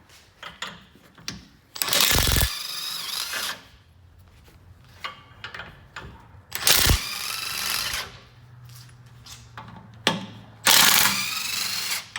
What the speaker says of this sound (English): we've got our 17mm socket and we're ready to remove the hitch and the tow hook